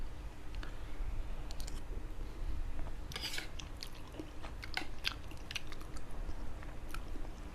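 Someone eats hot chicken rice porridge close to the mic, with soft wet chewing and small clicking bites scattered irregularly over a quiet background.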